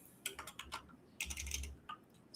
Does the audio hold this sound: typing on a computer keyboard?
yes